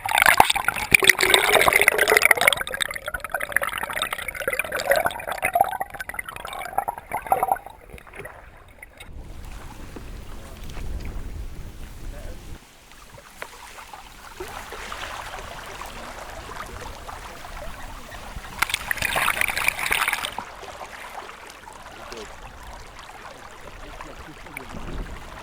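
Mokoro dugout canoe being poled through the water in the Okavango Delta: gentle sloshing and dripping with soft splashes, louder at the start and again near the end, with no talk.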